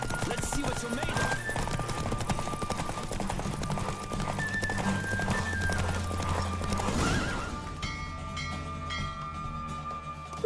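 A horse gallops in a race in The Witcher 3: Wild Hunt, with rapid clip-clop hoofbeats and occasional whinnies, all under steady music that drops away near the end.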